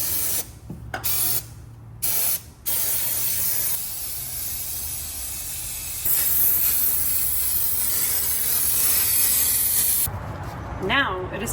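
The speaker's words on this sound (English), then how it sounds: "I'm going to spray a little bit more parts cleaner and degreaser just to kind of get the last bits of remaining oil off of the engine" Bursts of aerosol parts cleaner and degreaser hiss onto an engine during an engine and frame rail refresh: several short sprays give way to a long, continuous hiss, with occasional rattles and speech under it.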